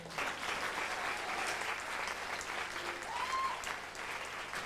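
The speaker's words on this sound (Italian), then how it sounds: "ma un applauso lo fate?" A theatre audience at a live comedy show in Rome claps steadily and evenly, a dense wash of applause holding at a fairly even level from start to finish.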